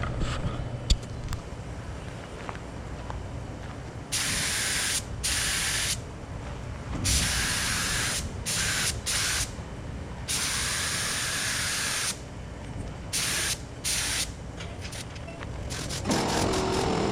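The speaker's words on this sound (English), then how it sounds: "spray down these mirrors and the headlight benzels, and they may not be perfect, but they'll be shiny for sure" Spray can applying clear coat to 1971 Chevy Camaro mirrors and headlight bezels, repeated bursts of loud hissing spray lasting a second or more each, separated by short pauses against a quiet room.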